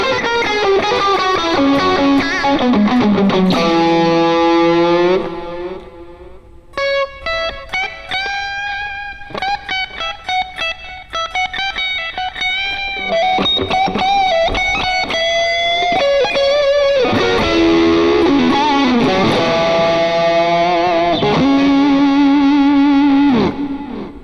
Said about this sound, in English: But we always have to have reverb and delay.